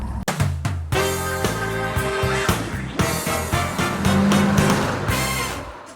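A 1968 Mercury Cougar XR-7 GT-E V8 runs close by, its engine rumbling and revving in uneven bursts with a deep throb and some rattling, heard alone without speech.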